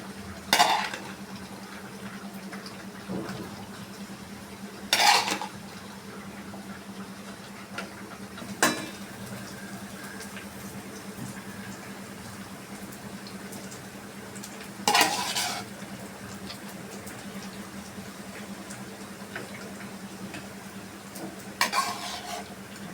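Half-boiled polao rice stirred in a pan, with soft steady scraping over a low hum and louder spoon scrapes against the pan every few seconds.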